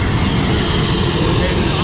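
A loud, steady airplane engine roar fills the air, a constant close drone with an even, unbroken rumble.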